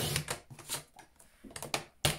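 Card stock is trimmed to size for a handmade stamped greeting card, producing several crisp, close scraping cuts in short irregular bursts with no voices.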